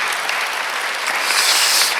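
A church congregation at a Sunday worship service claps together, producing loud, sustained, broadband applause that builds slightly toward the end with no pause.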